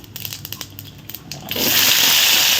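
Onions, green chilies, curry leaves and garlic hit hot oil in a fish curry pan, bursting into a loud, steady hiss that holds to the end after a stretch of quieter crackling.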